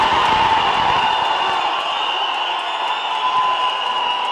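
Fans cheer at a Vijay event, a dense, sustained crowd roar with whistle-like tones, loud and unbroken throughout.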